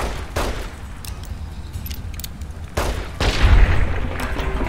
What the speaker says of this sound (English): You appear to have been detonated.